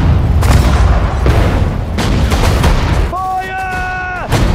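Gunfire and explosions in a Sudden Strike 4 desert war battle, with dense loud shots and booms for several seconds, then a brief lull with a tonal unit voice call before the fire resumes.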